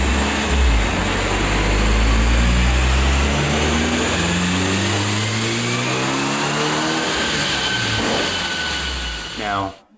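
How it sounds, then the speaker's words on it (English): A Mitsubishi Evo's engine revs hard on a roller dyno, a loud, sustained climbing drone with rising harmonics that drops away abruptly at the end. "So let's throw on the Evo to the dyno and give you a little something to listen to."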